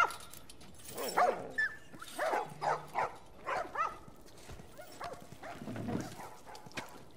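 Several dogs bark in a rhythmic series of sharp yelps and whimpers inside The Last of Us video game, fairly close, with a brief low tone in the background.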